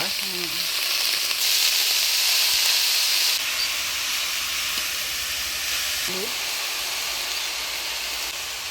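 Cabbage hits a hot pan in a village kitchen and sizzles loudly, a continuous hiss with a few brief stirring scrapes.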